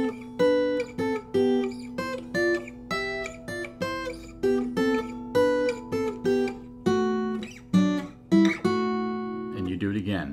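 An acoustic guitar plays the intro riff of a song slowly, with clear single picked notes and short double-stops in a steady, deliberate rhythm, close and alone.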